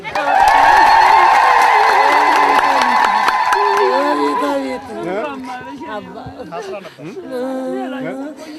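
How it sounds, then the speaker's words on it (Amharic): A church congregation ululates in a loud, sustained, high trilling chorus with cheering, then it fades into scattered shouts and a voice speaking. "እልል በሉላት"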